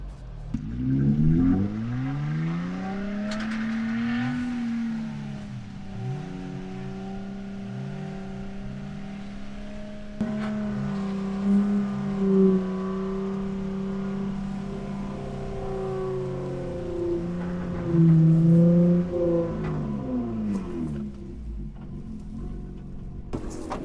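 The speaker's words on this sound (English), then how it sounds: "Give him a little first gear pull." A Toyota off-road vehicle pulls in first gear on rough terrain, its engine droning close and loud with rising and falling pitch as it strains, eases and revs again over a long stretch, with no talking.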